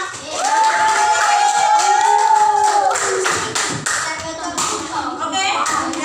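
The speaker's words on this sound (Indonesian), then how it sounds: "Tepuk tangannya buat kalian semua." A grade-five primary school class in Indonesia claps along for the pupils, irregular taps and claps mixed with children's voices, chatter and a sung or chanted line over the top.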